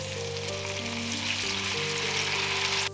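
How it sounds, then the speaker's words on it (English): A salmon fillet sears in a hot pan, a constant crackling sizzle with a few tonal ringing notes running underneath, close and steady for the whole stretch. "We're gonna cook the other side for about 3 minutes as well."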